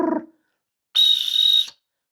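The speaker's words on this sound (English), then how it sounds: "it's a clear whistle, and it's got a P in it" A Jimgonia mega pea whistle used for hunt test dog training blows one sustained, loud, shrill trilling note lasting under a second, following a brief low sound at the start.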